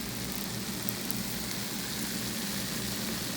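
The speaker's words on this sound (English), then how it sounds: "Can you hear the sizzle?" Dense, steady crackling and hissing fills the clip without pause, like food frying in a hot pan.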